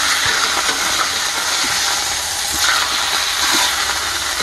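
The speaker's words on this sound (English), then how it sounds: "That pan's hot. Getting a good sear on there." Steak searing in a hot pan inside a heated winter camping tent, giving a steady, loud broadband hiss with faint crackle throughout, no talking.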